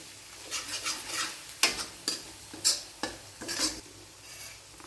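Onion with ginger-garlic paste cooking in a pan for momos, a soft steady sizzle broken by repeated scraping stirs of a spoon against the pan, close and alone with no voices.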